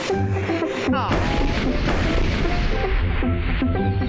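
A loud cartoon-style blast booms and crashes after a quick whistling drop, followed by rumbling debris noise with music tones underneath.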